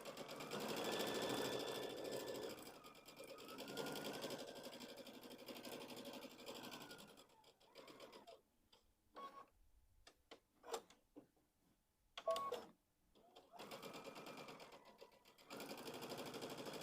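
A sewing machine stitches a pumpkin pillow for a kids' project. The motor buzzes steadily and close, stops for pauses at the corners with small clicks and taps in between, then resumes its run.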